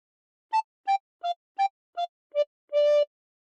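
A recorder plays a short melody from the Squid Game theme, six quick separate notes followed by a longer held final note, clear and solo in a quiet room.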